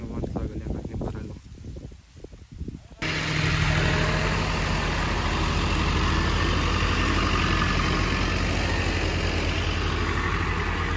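A tractor engine idles steadily while sugarcane is loaded onto it. The first few seconds are quieter and uneven, then a loud, constant low rumble holds to the end.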